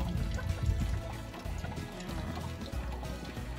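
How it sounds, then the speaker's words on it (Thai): Water pours and trickles steadily over a taro plant tuber as it is rinsed clean of slime, a continuous close splashing flow with no talking. "พอล้างน้ำสะอาดแล้วนะคะเราก็จะมาผึ่ง ที่หนังสือพิมพ์นะคะ"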